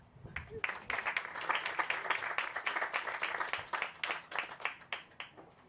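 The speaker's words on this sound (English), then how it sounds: "Please give it up, big round of applause for Danvers Cares." An audience bursts into steady clapping at a YMCA annual meeting. The applause builds quickly, holds dense and even for several seconds, then thins into scattered claps near the end.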